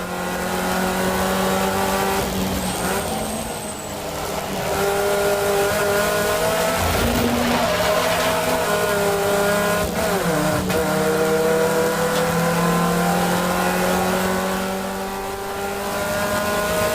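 Race car at a Brands Hatch GP track day, the engine roaring close and loud from onboard as it accelerates, briefly lifts, then pulls hard again through corners.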